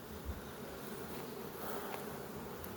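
Honey bees buzz steadily around a nucleus hive where queen bees are being raised, a dense, continuous hum filling the whole stretch with no voices.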